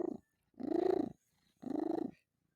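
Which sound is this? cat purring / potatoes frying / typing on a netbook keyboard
cat purring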